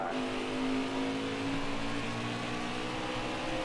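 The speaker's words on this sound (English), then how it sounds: "Car's plowing a little bit. You hear it chattering probably in the microphone there." A NASCAR race car engine in the video game NASCAR Heat 5 gives a steady, loud drone with a buzzing, slightly rattling tone throughout, revving at a constant pitch without pause.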